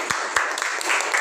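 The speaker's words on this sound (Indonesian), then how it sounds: "kita berikan aplaus dulu buat kelompok kedua" Short burst of classroom applause for a student group, with scattered hand claps over a general wash of clapping that lasts about a second.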